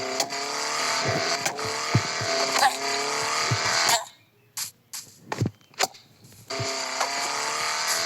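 A stolen car in a video game revs hard with squealing tires, its engine roar dropping out midway to scattered short bursts before surging back loud and steady.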